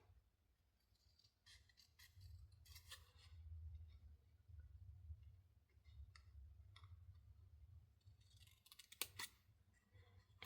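Scissors snip through cardstock in a quiet crafting session, a series of crisp, close cutting clicks scattered irregularly over a soft low background hum.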